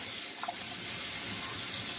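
Tap water runs steadily into a sink while sea moss is washed under it, a close, constant splashing rush with no voices.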